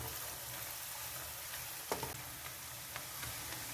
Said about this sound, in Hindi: थोड़ा सा प्याज जो है वो सौते हुआ है